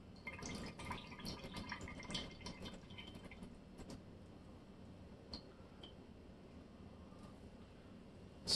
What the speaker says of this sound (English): let's get that water out of there